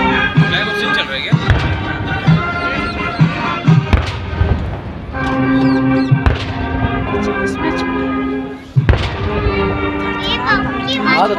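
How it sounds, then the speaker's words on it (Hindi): Indigenously built 105 mm light field guns fire a 21-gun salute at the Republic Day parade on Kartavya Path, heavy booms spaced about two and a half seconds apart under continuous commentary and music. "कर्तव्य पथ पर हमारे देश में ही निर्मित 105 mm लाइट फील्ड गन से 21 तोपों की सलामी दी जाएगी"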